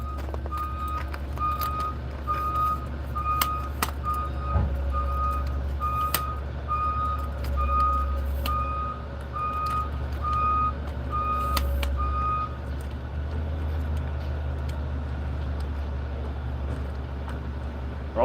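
Reversing trucks emit evenly spaced backup beeps at a tree service yard where firewood is being collected, the steady beeping carrying over a loud diesel engine rumble and ending before the clip closes, with no talking.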